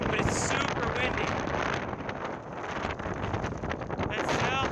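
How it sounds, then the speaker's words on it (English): Strong wind buffets the microphone on an exposed Appalachian Trail mountain summit, a steady, loud roar that surges and dips across the whole stretch, with a voice faintly present at times. "it's super windy"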